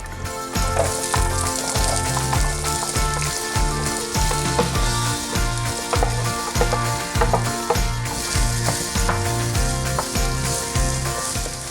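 Olive oil sizzles steadily in a hot pan at the start of an easy one-pot dinner, a continuous hiss partly masked by rhythmic background music.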